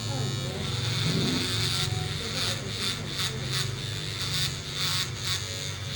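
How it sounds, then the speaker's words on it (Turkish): An electric hair clipper buzzes steadily while shaving a head down to zero, a close continuous hum with slight pulsing as it moves, under intermittent talk. "Bu makine sıfır makinesi. Direkt sıfır alıyor."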